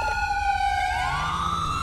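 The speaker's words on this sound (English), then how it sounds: "you guys can actually turn off your siren now" A police car siren in GTA 5, on a Ford Taurus city patrol car, wails loud and close, its rising and falling tones sweeping continuously with engine noise underneath.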